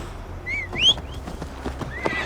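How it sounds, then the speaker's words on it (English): A horse in Assassin's Creed Valhalla gives a rising whinny, and its hooves clip-clop in a loose rhythm beneath it, close and fairly loud, with no voices. "Mount up, Eivor. It's a long ride to Tamworth."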